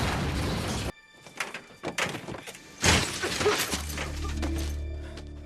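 A truck overturns in a film chase scene, with shattering glass, heavy crashing impacts and scattered debris, then a low rumbling engine or score that settles and sustains.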